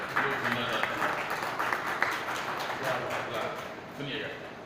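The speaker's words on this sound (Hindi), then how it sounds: "आप ताली बजा के एक बार इजाज़त दें" Hand clapping from an audience at an Urdu mushaira poetry recital in Warangal, a steady crowd of applause lasting several seconds with voices underneath.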